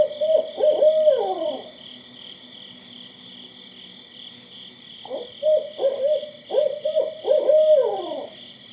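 A barred owl gives its rhythmic hooting call in two distinct phrases separated by a pause, clear and moderately near, over a steady background of crickets or insects.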